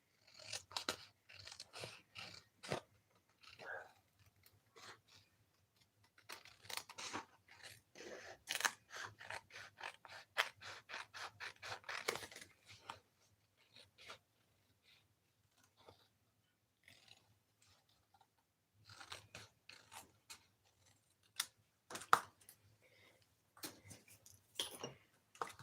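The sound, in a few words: scissors trimming a paper card piece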